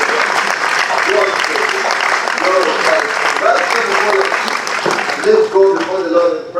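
A church congregation claps together in sustained, dense applause during a worship service, loud and steady throughout, with voices calling out over the clapping.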